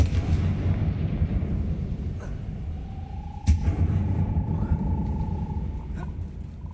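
A Confringo blasting curse goes off in Hogwarts Legacy: one sharp blast around the midpoint over a steady low rumble, with a thin sustained tone that lingers afterward.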